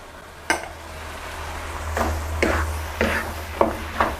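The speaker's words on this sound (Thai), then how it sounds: "ผัดคลุกเขาให้เข้ากัน" Pork for khua kling is stir-fried in a pan, with a low sizzle under about half a dozen distinct spatula scrapes and clacks against the pan at irregular intervals.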